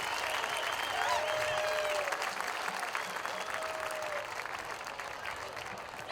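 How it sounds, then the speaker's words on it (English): A crowd claps in a warm round of applause at a varsity high school football game, a dense, steady patter of hands that holds at the same level throughout with no talking over it. "please give a warm round of applause"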